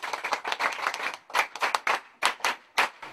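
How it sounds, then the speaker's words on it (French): A small audience claps for schoolchildren at a public school, uneven bursts of hand claps that come in short irregular clusters with gaps, fairly close and unaccompanied by speech. "On applaudit pour vous."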